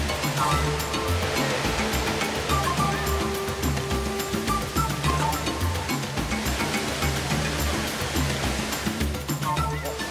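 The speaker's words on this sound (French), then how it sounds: "Après une belle petite marche d'une dizaine de minutes, on est arrivé ici à la chute." Waterfall in Costa Rica reached after a short forest walk, a steady loud roar of falling water filling the whole clip with a constant rushing wash and no breaks.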